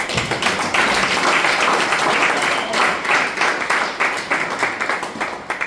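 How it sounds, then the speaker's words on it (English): A symposium audience claps for the master of ceremonies in a continuous, fairly loud round that carries on steadily before tapering slightly at the end. "he deserves a round of applause"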